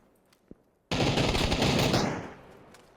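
Automatic gunfire in PUBG, a sudden loud sustained burst of rapid shots that cuts in after a brief quiet with a faint click, then trails off and fades.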